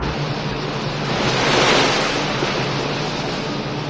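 Ocean ground swell and surf around the research boat John Muir in shallowing water, a broad continuous wash of waves with wind noise that swells to a peak midway and then eases.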